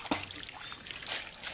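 Water trickles and splashes softly while panning for gold, a brief, close liquid dribble with small irregular drips.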